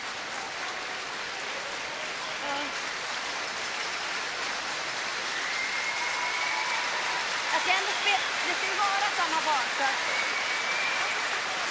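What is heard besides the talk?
applause for curling players leaving the playing area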